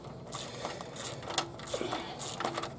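A ratchet wrench turns a belt tensioner bolt on a Nissan Frontier, producing short bursts of rapid metallic clicking in a few repeated strokes, close and fairly quiet.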